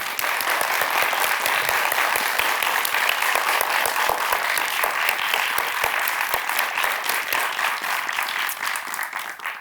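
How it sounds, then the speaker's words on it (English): A studio audience applauds Nobel Prize winners with dense, sustained clapping, loud and even throughout with crisp individual claps audible, fading slightly at the very end. "Studio audience, please join me in giving them a massive round of applause"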